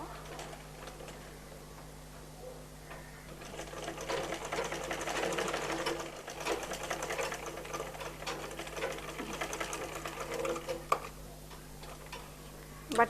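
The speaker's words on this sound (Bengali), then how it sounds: "পাইপিনের কাপড়টাকে দুই ভাজ করে তারপর সেলাই করবো" A sewing machine runs in a long continuous stitching burst through folded piping fabric on a baby frock, steady rapid ticking close by at moderate loudness, with light handling noises around it.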